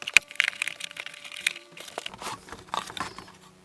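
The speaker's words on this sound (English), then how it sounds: "So let's get this unwrapped." Packaging around an Alesis Vmini 25-key USB keyboard being unwrapped, giving close crinkling, crackling and tearing sounds in irregular bursts, with no talking.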